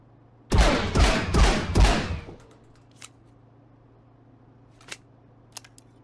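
Rapid bursts of automatic gunfire while aiming down sights in the Marauders shooter, about four loud, close volleys in quick succession that end abruptly, followed by faint clicks and quiet.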